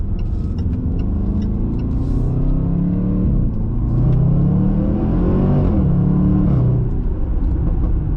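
A Range Rover SVR engine with a modified exhaust revs up and down with a rough rumble, and a few sharp crackling pops from the exhaust break through near the start.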